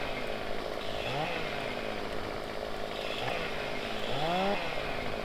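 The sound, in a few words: chainsaw cutting a tree in the video game Farming Simulator 15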